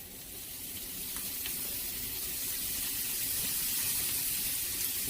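Hamburger meat sizzles in a hot pan with onions and garlic for vegetable beef soup, a steady, fairly soft hiss that swells slightly and continues without pause or voices.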